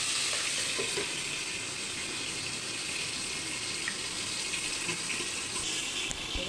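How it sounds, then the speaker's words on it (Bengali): Mustard oil is poured into a hot wok just after fried hilsa fish has been lifted out, producing a steady loud sizzle and hiss that continues without pause and without talk. "কড়াটা আমাদের গরম হয়ে গেছে, এবার আমরা সরষের তেল ঢেলে দিচ্ছি"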